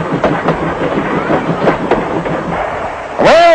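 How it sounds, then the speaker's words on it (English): A night train rolls along the rails with steady clickety-clack rhythm, loud and close, ending in a sharp high wheel squeal; no talking. "We are catching the night train to connect with the boat to Iceland."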